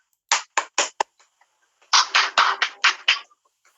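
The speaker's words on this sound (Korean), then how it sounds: "우리 정순재 형제를 큰 박수로 맞아 주시기 바랍니다" Enthusiastic audience applause welcoming a brother to the front at a Thursday church gathering, a short burst of clapping that breaks off, then a second louder wave of applause near the listener.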